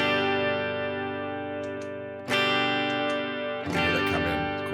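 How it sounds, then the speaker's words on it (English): Electric guitar run through a chorus effect rings out in sustained, shimmering chords, with a sharp strum accent midway and a busier burst of notes near the end, played alone without talk. "All right, the chorus gives it this thickness."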